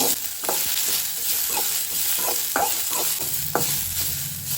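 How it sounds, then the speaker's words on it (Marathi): Thinly sliced onion fries in a pan with a loud, steady sizzle, while a utensil stirs and scrapes it in repeated short strokes close by. "तर कांदो न्ही आमी मातसो 1-2 ते 3 मिनटां हितून तळसून घेवया"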